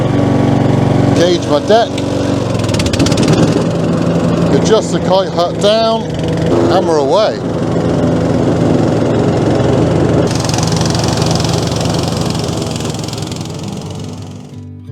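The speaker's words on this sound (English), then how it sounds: "Listen to that little engine purr." A ride-on lawn mower engine runs loud and close with a steady droning hum while someone talks over it.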